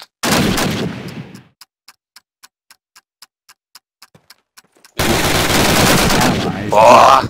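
Gunfire in Call of Duty, a loud burst of shots, then a run of sharp evenly spaced single shots, then another long loud burst of rapid fire.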